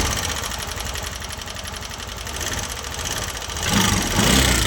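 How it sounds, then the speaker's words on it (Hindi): A TVS Jupiter 125 scooter engine runs close by with an abnormal noise, a steady rapid mechanical clatter and hum that swells louder over the last second, with no talking. "इंजन में से बहुत ज़्यादा साउंड आ रहा।"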